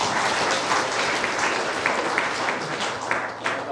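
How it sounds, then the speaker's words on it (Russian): An audience claps to welcome a speaker at a talk about the IT field, a dense, even round of applause that fills the whole stretch with no voices over it. "Давайте поприветствуем Игоря аплодисментами"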